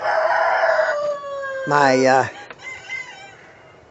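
A rooster crows loudly and close in a backyard chicken coop, one long cock-a-doodle-doo rising over steady hen clucking and chatter, with a voice briefly heard nearby.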